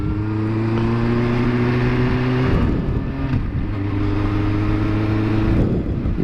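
A motorcycle rides and lane-splits through heavy traffic in Vancouver on its first ride of 2016, with a steady droning engine note that swells and shifts with throttle changes amid surrounding road noise.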